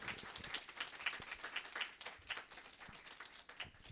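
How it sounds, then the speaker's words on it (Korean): Applause from a seated audience at a student information session fills the room for several seconds, a dense patter of many hands clapping at moderate distance, fairly quiet overall. "박수 부탁드리겠습니다."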